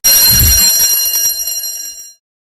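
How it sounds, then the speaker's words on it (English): A school late bell rings loud and continuous for about two seconds, a bright metallic electric ring that stops abruptly, heard alone. "just as the late bell rang"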